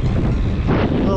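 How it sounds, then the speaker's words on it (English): Strong wind buffets the microphone in a continuous low roar during a bicycle ride, loud and close, with gusts swelling and easing throughout. "There's the wind. It's very windy."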